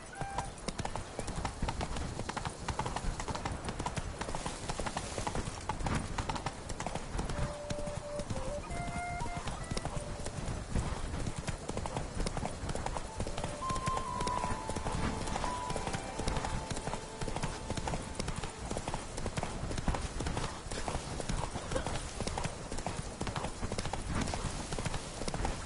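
Roach, a horse in The Witcher 3, gallops in a quick steady clip-clop of hooves that runs throughout, with faint game sounds in the background.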